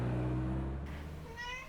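A pet cat gives a single drawn-out meow at close range, rising toward the end, over a low steady room hum.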